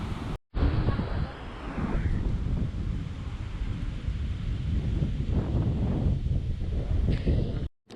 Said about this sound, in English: And listen to the ocean.